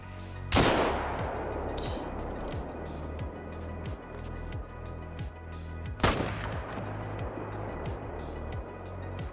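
Two loud rifle shots about five seconds apart ring out in an alligator-hunting video game set in Mississippi acres swampland, each with a sharp crack and long decaying echo over a low ambient hum.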